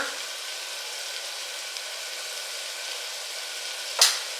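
Chopped tomato fries in a pan with a steady, close hiss of sizzling oil and one brief sharp click near the end.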